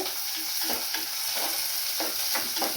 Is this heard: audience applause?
no